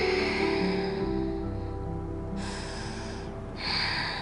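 Deep yoga breathing: slow, steady inhales and exhales with a soft, airy rush, set over a quiet sustained tonal background.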